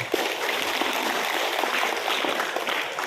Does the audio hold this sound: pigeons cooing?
no